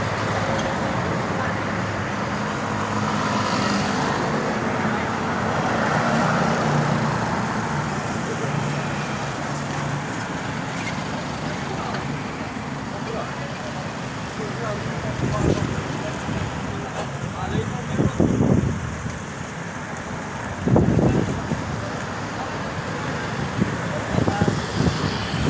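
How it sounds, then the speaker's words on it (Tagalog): Evening traffic on a highway in San Fernando, Pampanga: a steady roadway rumble with passing vehicles swelling and fading, a few louder pass-bys near the end, and someone talking over it. "Highway tayo ng San Fernando"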